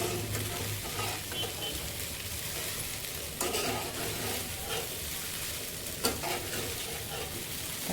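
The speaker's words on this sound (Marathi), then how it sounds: "असं जरा जरा शाबू घालून मी ते व्यवस्थित मिक्स करून घेत आहे." Sabudana khichdi is stirred and mixed in a hot pan, a continuous low sizzle broken by periodic scraping strokes of the spoon, close and without speech.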